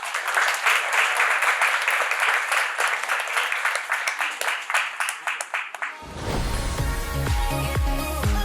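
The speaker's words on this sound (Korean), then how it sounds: "큰 박수 부탁드립니다." A lecture audience gives a loud, sustained round of applause to welcome the speaker, with many hands clapping close by. The clapping fades and then gives way to music.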